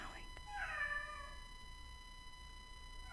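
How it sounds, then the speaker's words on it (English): A pet cat meows indoors, a short rising meow followed by a fainter trailing one, with a steady electronic hum underneath. "He's meowing."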